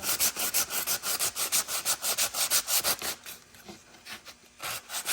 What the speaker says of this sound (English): We're cutting the anodized off of it because you can't polish anodized, and we're fixing the dent at the same time.